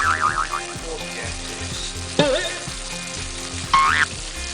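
Food sizzles and crackles steadily in a hot pan, joined by a few scraping stirs and springy metallic twangs, no talking. Eggs and Portuguese sausage are cooking.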